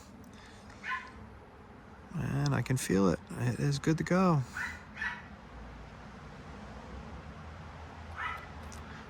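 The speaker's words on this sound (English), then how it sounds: "Sorry for the dogs barking." Dogs bark and yip in the background, a few short bursts around steady speech from a nearby voice.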